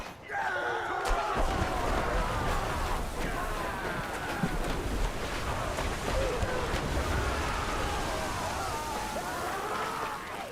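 A sailing ship ploughs through ocean waves in the Bannerlord: War Sails video game, a loud continuous rush of water and wind with occasional thuds and slams over the whole stretch, no voices.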